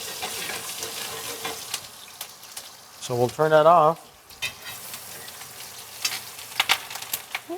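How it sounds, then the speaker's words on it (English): Herbs and aromatics hit hot fat in a pan with steak, giving a short, loud burst of crackling sizzle about a second long between stretches of talking and quieter background frying. "Basically, you're frying the herbs."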